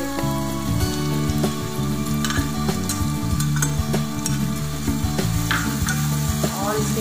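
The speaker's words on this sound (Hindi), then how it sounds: "हम अब इसमें पिसा हुआ मसाला डालेंगे।" Ground spice paste sizzles loudly in oil in a frying pan for chicken curry while being stirred, the steady crackling hiss punctuated by repeated scraping strokes of the spoon, close and continuous throughout.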